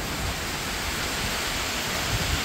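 Heavy typhoon rain with wind during Typhoon Uwan, a dense, steady wash of hiss that stays loud and even without any voices.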